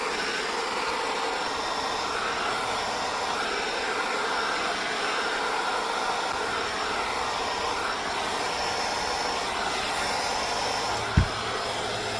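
A curl defining hot air brush runs steadily on its cold setting, a loud, even motor whoosh with airflow that holds throughout, broken only by a brief thump near the end.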